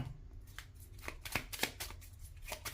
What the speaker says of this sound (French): On va prendre 3 cartes.